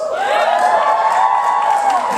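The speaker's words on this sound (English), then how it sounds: "You notice how I got the cheap applause?" An audience cheers and whoops loudly for a couple of seconds, a dense burst of many voices yelling together.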